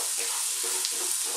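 Food frying in butter in a pan for a lamb kabsa rice dish makes a steady, close crackling sizzle with faint stirring noises throughout.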